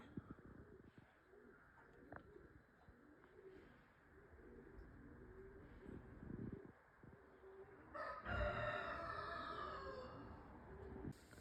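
Pigeons coo near a house in a yard, a repeated low, soft burbling at close range, joined near the end by a brighter, louder bird call.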